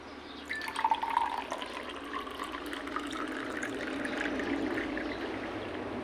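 Tap water runs steadily while someone fills a drinking glass indoors, a soft continuous stream with a few faint drips, moderately close and without talk.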